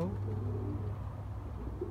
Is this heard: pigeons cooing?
yes